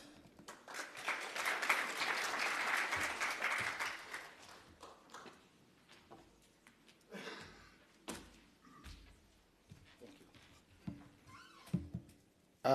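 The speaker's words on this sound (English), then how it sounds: "A round of applause." A convention audience at a broadcast and digital media event gives a burst of applause that swells for a few seconds, then thins into scattered claps, thumps and shuffling in a large hall.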